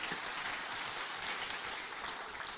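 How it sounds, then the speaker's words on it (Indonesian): Crowd clapping for Nahdlatul Ulama during a lecture on Wahhabism and caliphate movements, a steady, fairly soft wash of many hands that holds evenly for a couple of seconds with no talk over it. "Tepuk tangan untuk Nahdlatul Ulama."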